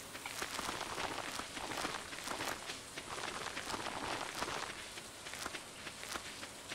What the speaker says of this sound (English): It's raining, which is handy.